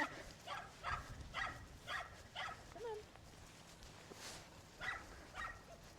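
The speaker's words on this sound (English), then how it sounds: "Lola, as you can hear, non-stop barking at the back" A dog named Lola barks repeatedly at the back of a group of dogs during a calm-focus training session, a steady run of sharp barks at moderate distance, with brief whimpers in between.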